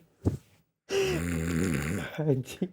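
A voice imitates loud snoring, with a short breathy snort followed by a long rattling, drawn-out snore and a few shorter grunting breaths.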